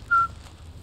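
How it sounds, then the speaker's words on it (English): A man whistles a single brief, clear note to himself while cleaning drains and streets in Dagenham, the tone fairly close and alone over faint background noise. "I have a whistle to myself."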